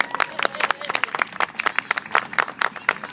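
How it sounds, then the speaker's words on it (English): Audience applause at a county fair before a Balintawak Arnis martial arts demonstration, scattered individual claps in an uneven rhythm, close and moderately loud, with a few voices in the crowd. "Let's give Kaju Campbell another round of applause"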